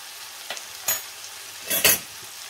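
A pasta al forno mixture seasoned with salt is stirred in a pan, heard as a few short scraping swishes standing out against a quiet sizzle, the strongest pair near the end, with no talking.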